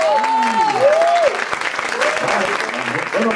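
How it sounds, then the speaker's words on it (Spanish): Applause from a Bogotá audience at a folk dance and cumbia discussion event, steady and close for a few seconds, with voices calling and talking over it. "un aplauso"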